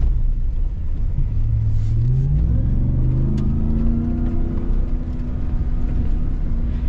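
A Ram TRX pickup truck in Baja mode drives off-road, its engine loud and close, rumbling and dropping in pitch through downshifts and then rising again over steady road rumble.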